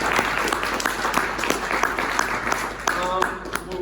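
Applause from an audience at a climate city competition closing event, a steady patter of clapping mixed with overlapping voices and chatter throughout.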